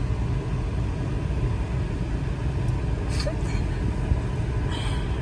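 Heavy road traffic in Mumbai, heard from inside a slow-moving vehicle as a steady low engine rumble with faint passing vehicle noise and a brief distant horn.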